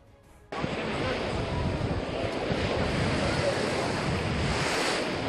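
Sea waves wash continuously onto a crowded summer beach, a loud, steady roar of surf mixed with wind buffeting the microphone.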